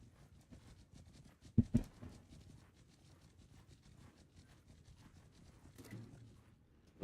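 Horses in a Mount & Blade II: Bannerlord battle between Lions and Khuzaits, heard as a steady, fairly soft patter of many hooves with a couple of louder thumps and the general din of combat underneath.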